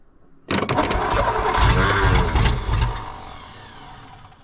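An old 1964 Studebaker Daytona Wagonaire engine, fed from a spray bottle of gas with a junk carburetor, cranks and catches, revving roughly for a couple of seconds before the sound fades away; close and loud.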